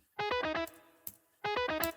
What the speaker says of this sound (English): What this is, basically an electric guitar.